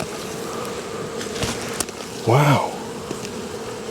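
Honeybees in an opened hive in an Australian bee yard, a steady close buzz with a louder bee passing near, and a person briefly exclaims over it.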